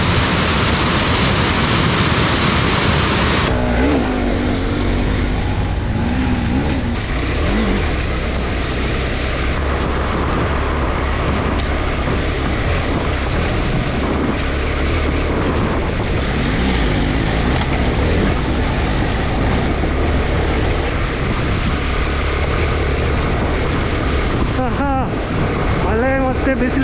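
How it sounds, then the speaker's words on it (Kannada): Heavy rain pours steadily on a forest trail, a dense continuous roar picked up by a helmet-mounted camera, with a sharp shift in tone early on and faint voices occasionally under the downpour. "ಈಗ ನಾನು ಸೈಲೆಂಟ್ ಆದ ಕೂಡಲೇ ಒಳ್ಳೆ ಫುಲ್ ನಿಮಗೆ ಮಳೆ ನೇಚರ್ ಸೌಂಡ್ ಎಲ್ಲ ಕೇಳುತ್ತೆ."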